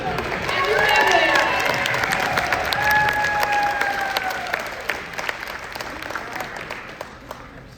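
An audience applauds and cheers for a family standing up at a Winter Olympics opening party, with loud, dense clapping and whistles that swell early and then taper off gradually.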